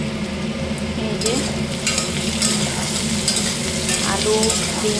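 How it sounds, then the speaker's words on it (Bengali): Potatoes, beans and carrots are stir-fried in a pan, with a steady sizzle and repeated scraping strokes of a spatula throughout, close and continuous with no talking. "আলু, বিনস আর গাজর দিয়ে ভাজা করব।"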